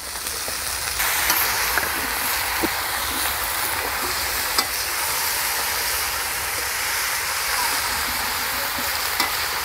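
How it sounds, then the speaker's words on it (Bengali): Vegetables frying in a pan for an outdoor picnic meal, a steady loud sizzle running throughout with occasional scrapes and clicks of stirring. "এবার সবজিগুলো দিয়ে ভেজে নেওয়া হবে।"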